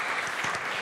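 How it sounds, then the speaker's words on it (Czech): An audience applauds after a jive dance performance at a live event, a dense, steady burst of clapping filling the whole moment without talk. "zatleskejte jí za jive"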